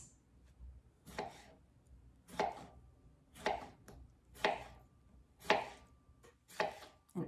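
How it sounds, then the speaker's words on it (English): A knife slices a cucumber into thin half circles on a cutting board. Six crisp cuts land at a steady rhythm about one second apart, close and moderately quiet, with no talking. "And then I will slice these into little half circles,"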